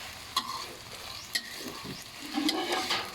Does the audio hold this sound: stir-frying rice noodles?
yes